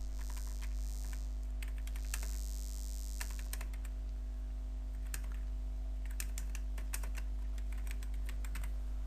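Rapid keystrokes on a computer keyboard come in uneven bursts while a poster is designed in CorelDRAW, close and fairly quiet over a constant low mains hum.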